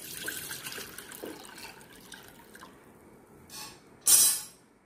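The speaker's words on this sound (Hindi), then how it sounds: "कोकोनट वाटर जो है वो डालते हैं" Coconut water pours into a cooking pot on the stove, a soft trickling splash that builds into a louder, brief gush near the end, with no talking.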